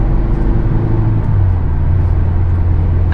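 A 2017 Mazda Miata RF with a 155-horsepower engine is driven along, giving a steady, close, low engine rumble and road drone throughout, with no voices.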